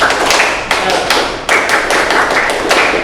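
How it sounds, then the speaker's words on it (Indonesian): A class of students performs a rhythmic spirit clap, a loud run of sharp, close claps in a patterned beat with brief pauses between groups. "Coba kita cek tepuk semangat."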